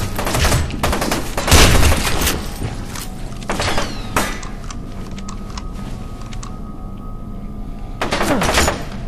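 Gunfire in the video game F.E.A.R. 2 arrives in loud, sharp bursts and single cracks, with several volleys separated by quieter stretches of game ambience.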